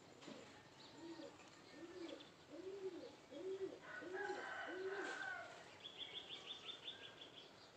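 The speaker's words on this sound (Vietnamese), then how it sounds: "Đây là chim nhỏ này. Nó làm tổ giỏi lắm." Small birds nesting around a house: a run of soft, evenly spaced coos, then brief higher chirps and a quick twittering series, fairly faint and close by, with no talking.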